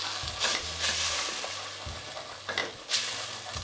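Ground spices sizzle in hot oil for a potato and tomato curry, a steady frying hiss broken by a few louder bursts as the mixture is stirred.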